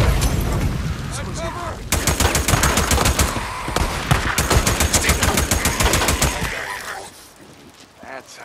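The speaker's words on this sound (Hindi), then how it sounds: "इतनी गोली चला रहे ना ये गुंडे," Gang members fire rapid automatic bursts in Days Gone, loud sustained gunfire rattling through the middle of the stretch before fading to quieter game ambience.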